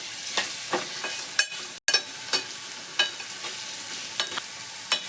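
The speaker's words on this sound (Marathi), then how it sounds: "आता आपण याच्यात टमाटा टाकतोय तो पण पूर्ण पूर्ण हलवून घ्यायचं" Tomatoes and onion being stirred and fried for a bean chole curry, a steady sizzle under repeated spoon scrapes against the pan, with a brief dropout midway.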